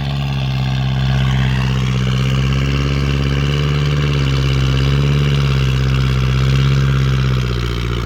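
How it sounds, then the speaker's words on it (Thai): A steady, low non-turbo diesel tractor engine idling with a deep, even exhaust rumble and no rising whistle, close and continuous throughout. "มันเป็นเสียงท่อธรรมดาไม่มีเทอร์โบหรอก"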